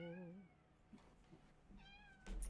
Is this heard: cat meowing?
yes